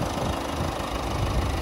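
2016 Peugeot 3008 engine idling, heard up close in the open engine bay as a steady, even rumble with no voices.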